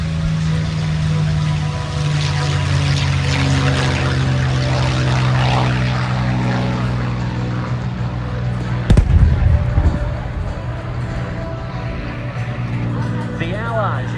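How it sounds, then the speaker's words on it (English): A P-51C Mustang propeller fighter performing at the Columbus Air Show, its engine droning steadily under a narrator's voice, with a sharp burst partway through. "aircraft, the P-51 Mustang."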